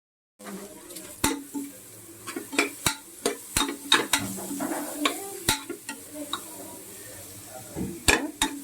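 Sliced carrots fry and are stirred in a pan for carrot rice: a low sizzle runs throughout while a utensil scrapes and taps the pan in irregular, close, fairly loud strokes.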